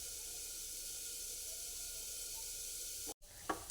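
Ghee sizzles on a masala dosa cooking in a hot pan, a steady close hiss that breaks off briefly near the end and then returns.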